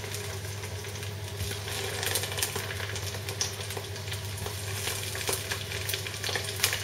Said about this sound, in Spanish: El siguiente paso será dorar un ajo picado en este mismo aceite